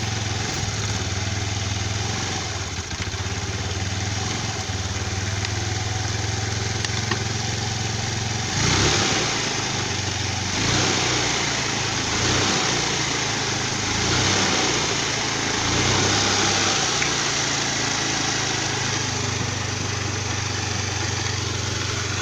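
A motorcycle engine runs steadily with repeated surges as the throttle is opened, the revs sputtering and dropping off rather than climbing cleanly as a faulty fuel tap cuts off fuel flow.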